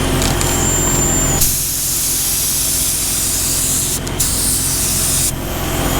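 Spray gun laying clear coat onto a Dodge Viper ACR body, a loud continuous close hiss with a couple of brief breaks between passes.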